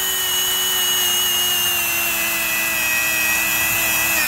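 A power tool strips the finish off a 1998 Suzuki Bandit swingarm, giving a steady, even, high-pitched whine that holds constant and close without pauses.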